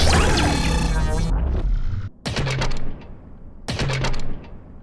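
Designed weapon sounds for Plants vs Zombies Garden Warfare 2, like a grenade launcher: a loud sustained sci-fi burst gives way to sharp repeated punchy shots with clipped tails, close and dry.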